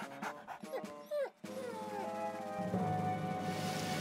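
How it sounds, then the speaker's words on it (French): Cartoon dog from Fireman Sam whimpering and yipping in short high whines at first, then a steadier run of animated sounds and music-like tones fills the rest. "N'aie pas peur, mon toutou."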